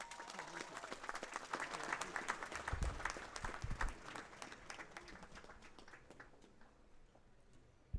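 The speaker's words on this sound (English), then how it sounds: "Come on, a round of applause." A large crowd at a JKUAT university graduation ceremony applauds outdoors, a broad wash of clapping that swells in the middle and then gradually fades.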